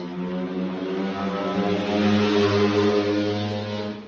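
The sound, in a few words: very loud car passing outside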